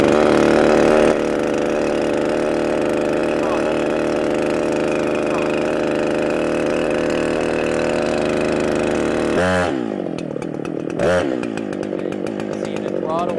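A chainsaw engine runs steadily and loudly for most of the stretch, then drops toward a lumpier idle with a few brief blips near the end.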